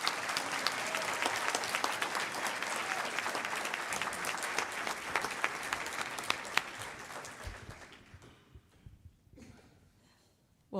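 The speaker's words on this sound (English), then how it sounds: "Let's give them a round of applause." Graduates at a Class of 2025 ceremony receive a sustained round of applause from the audience, dense clapping that holds steady and then thins out, trailing into a few last claps and near quiet.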